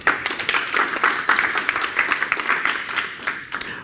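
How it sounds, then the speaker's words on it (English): Audience at a talk on stage fright gives a short round of applause, close, fairly loud clapping in a lively, uneven rhythm that tapers slightly near the end. "A little round of applause, please."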